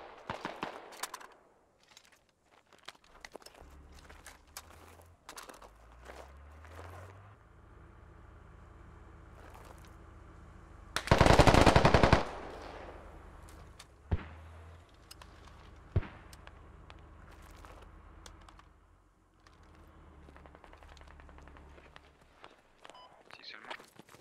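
Gunfire in the tactical shooter game Squad, with a dense loud burst of shots around the middle and scattered sharper cracks elsewhere over a low rumbling battlefield bed, while players talk over radio.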